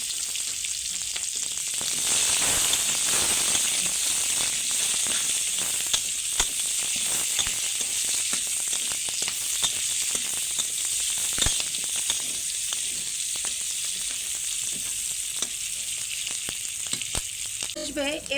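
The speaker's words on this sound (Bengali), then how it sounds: "ফোড়নটা হয়ে আসলে এবার ওতে পেঁয়াজ কুচি দিয়ে ভালোভাবে নাড়াচাড়া করতে হবে।" Chopped onion frying in spiced tempering oil for a shrimp and banana-flower dal dish, a steady close sizzle and hiss running the whole time with occasional soft stirring scrapes, no voices.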